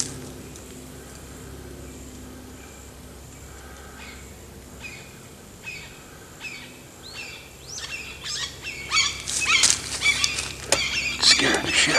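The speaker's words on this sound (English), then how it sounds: "scaring the shit out of the birds" Birds in Florida woods chirp in a string of short, bright calls that grow busier and louder toward the end over a low, steady outdoor hum.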